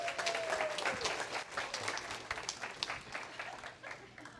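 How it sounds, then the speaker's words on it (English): A small group claps for game contestants in a round of applause, moderately close and uneven, with a whoop at the start and the clapping gradually thinning out. "Let's give a round of applause."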